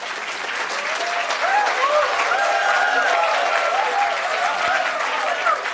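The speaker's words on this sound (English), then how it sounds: "While you clap" Audience at an engineering college convocation ceremony applauding, a dense sustained wash of clapping from a large crowd with a faint voice over the public address running beneath.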